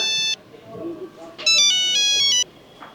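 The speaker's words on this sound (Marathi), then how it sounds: "ते कोणाचा फोन वाजतोय तुझाच वाजतोय माझा" A mobile phone ringtone sounds up close in bursts of bright electronic tones, stopping and restarting louder, while people talk quietly underneath.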